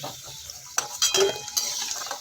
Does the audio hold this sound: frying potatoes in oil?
yes